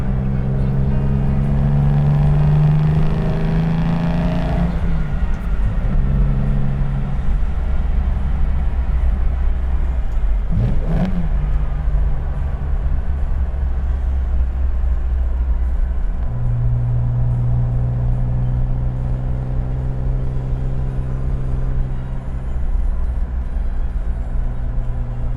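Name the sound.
1961 Aston Martin DB4 car driving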